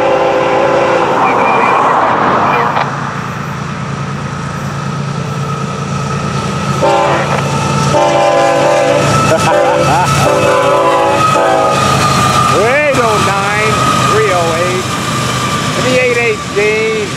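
FEC 101 freight train rolls past a parked servicing gang, a loud steady rumble of passing cars with horn blasts and squealing wheel tones in the latter half, and a voice speaking over it.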